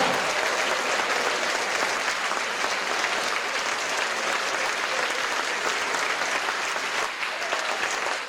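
A church congregation at a prayer gathering breaks into sustained, loud applause, a thick continuous wash of clapping that barely varies in level from start to finish, with no separate voices standing out.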